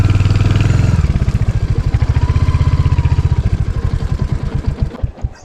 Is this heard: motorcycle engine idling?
yes